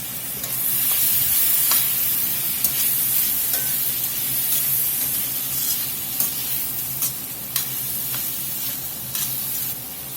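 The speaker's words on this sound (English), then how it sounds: "I'm going to get me a tablespoon of garlic in." Garlic added to a pot of browned onions and carrots for beef bourguignon crackles in a loud, steady sizzle with scattered sharp pops and spoon clicks over about ten seconds, no talking.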